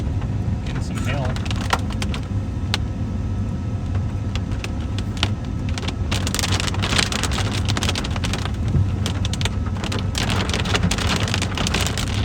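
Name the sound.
hail falling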